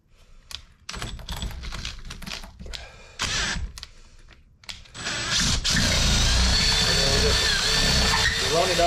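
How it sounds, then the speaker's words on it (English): A power drill spinning in reverse with sandpaper wrapped on its bit, working inside a bushing bore: short clicky bursts and stops at first, then a loud continuous whirring grind for the final seconds. "we're going to have the drill going in reverse"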